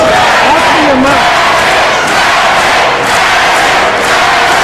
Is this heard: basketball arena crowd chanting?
yes